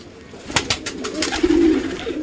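Pigeons coo softly and close by at a loft, a low throaty burbling that rises and trails off, with a few light fluttering taps just before.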